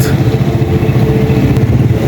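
A motorcycle engine runs with a steady, loud, low rumble close by, holding an even throttle with slight pulsing and no speech over it.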